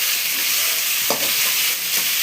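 Tomato goes into a hot frying pan and is stirred, producing a loud, dense, continuous sizzle close up, with a brief scrape of the spoon partway through.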